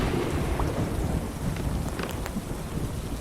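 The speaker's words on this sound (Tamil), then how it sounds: "எப்படி மழை பெய்யுது." Video game rain falls in a steady, dense patter with low rumbling thunder rolling underneath, continuous and fairly loud, with no voices.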